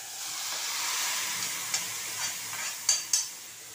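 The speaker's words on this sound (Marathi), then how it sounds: "आता ही भाजी मी टाकत आहे फोडणीला." Chakwat leafy greens dropped into a garlic tempering in hot oil, a soft steady sizzle with a few sharp crackles and spatters near the end, fairly quiet, no speech.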